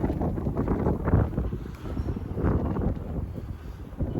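Strong gusty wind buffets the microphone at a drone flying site, a low, uneven rumble that swells and eases in irregular surges without voices.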